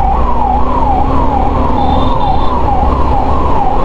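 An ambulance siren wails loud and close in city traffic, rising and falling in a steady, rapid cycle over a low rumble of engines.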